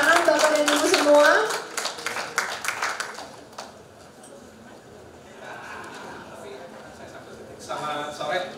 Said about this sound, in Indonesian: Tepuk tangan Bapak dan Ibu semua.